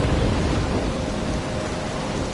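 Steady heavy rain with rolling thunder in a video game storm near a lighthouse, a dense continuous roar that stays loud and unbroken throughout.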